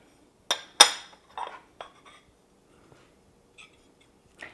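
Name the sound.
sharp knife run around the inside edges of a ramekin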